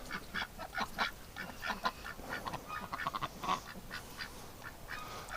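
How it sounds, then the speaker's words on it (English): A duck with a broken wing, inside a barn, quacks in a rapid series of nasal calls, close and fairly loud, with other waterfowl honking and chattering around it. "There's broken wing duck."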